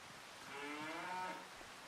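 Cow mooing in the Farming Simulator 25 video game, a single drawn-out low moo lasting about a second over faint rain-like background noise, fairly quiet.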